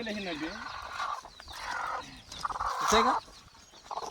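Backyard chickens, including a rooster and a quarrelsome hen, give a few close clucks and squawks mixed with rustling, while people talk nearby.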